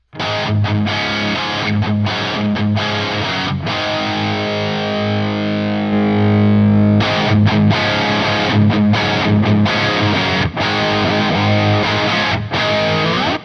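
Distorted electric guitar played through an amp, captured with a Shure 57 and a Sennheiser 421, then with a ribbon mic added; loud, continuous chords and riffs with brief gaps, the tone growing fuller partway through.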